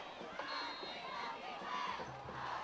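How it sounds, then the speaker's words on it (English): Football crowd at a high school game between St. Paul's and Mandeville chanting in unison, a broad, steady roar of many voices from the stands, sustained and moderately distant. "you hear the chants of "I believe that we will win" from the crowd"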